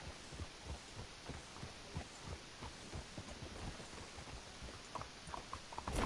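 Horse hooves clip-clop steadily in Red Dead Redemption 2, a soft, even rhythmic thudding of a horse walking, faint and alone.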